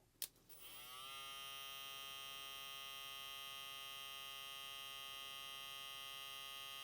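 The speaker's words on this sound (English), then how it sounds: "Now let's check it on the high speed for the Diamantes" A JRL Diamante hair clipper switches on and runs at high speed, a steady, close electric hum with a bright buzzing whine that holds evenly throughout after a brief click at the start.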